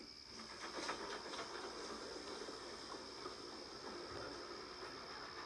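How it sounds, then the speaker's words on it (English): Stepney, a steam engine, puffing away along the line: a steady, fairly quiet steam hiss with faint rhythmic chuffs early on. "And with that, Stepney puffed away."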